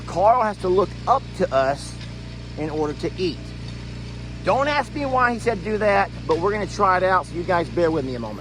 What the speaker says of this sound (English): We do have a contractor here working on the new water well